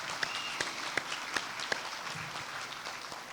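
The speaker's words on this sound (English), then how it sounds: "Let's give them a big round of applause" Audience applause at a Crosstown grand opening ribbon-cutting and dedication ceremony, a crowd clapping steadily with several sharp, distinct close claps standing out above the wash of hands, moderately loud and tapering off.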